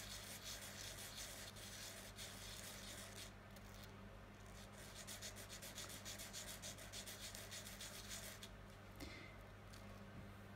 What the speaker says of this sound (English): you need to very gently sand that as well